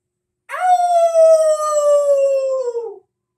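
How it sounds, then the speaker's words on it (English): A single big, loud howl from an unseen creature, one long sustained wavering cry lasting a few seconds that slowly falls in pitch, heard alone and close against silence. "Big, loud howl."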